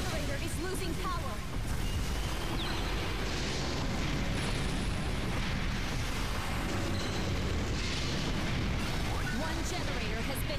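A generator blowing up in a Godzilla video game: a loud, continuous rumbling explosion with crackling bursts and booms, dense and sustained throughout, with voices talking over it.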